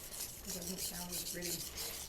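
A knife being sharpened on a Naniwa 400 grit diamond whetstone, rhythmic close scraping strokes rubbing back and forth, fairly soft.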